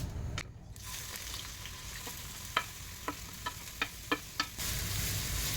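Ginger fries in a small amount of coconut oil with a soft, steady sizzle, broken by a few sharp clicks of a spoon stirring against the pan, with no talk.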